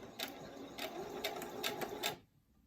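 A sewing machine stitches an inch-wide elastic for a ribbon tutu in several quick, close bursts of rapid needle clatter before stopping into quiet.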